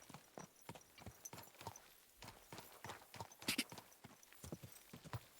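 Horse hooves clip-clop in a steady trotting rhythm through a medieval mining village in the video game Kingdom Come Deliverance II, close and clear, with a brief whinny-like sound midway and no talk.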